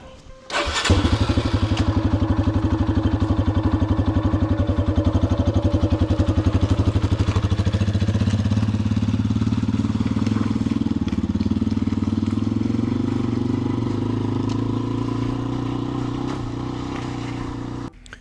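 A motorcycle engine on a trail ride through a rocky crossing idles up and then holds a loud, continuous close-up drone, its pitch gradually shifting as the bike works through in low gear.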